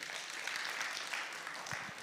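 Applause from an audience at a Magereza DT SACCO delegates education day, a steady, even wash of clapping for a woman guest, moderately distant and filling the whole stretch.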